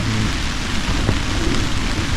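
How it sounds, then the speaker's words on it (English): Steady, loud rain drums on a tent while a gale blows outside, a dense, unbroken wash of noise with no one speaking, set on a cold solo camping night. "it's got a feels like of -3, -4 degrees out there, raining"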